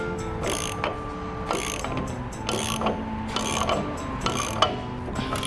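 A hand ratchet cranks a tie-down line tight on a Peterbilt truck, a series of close, loud metallic clicking bursts in uneven pulls, with no one speaking.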